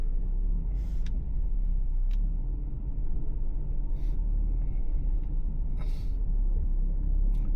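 Winch on an OPENROAD 4wd off-road car hauling it along a rough track, a steady low rumble and drone of motor and drivetrain with a few sharp clanks and scrapes at intervals.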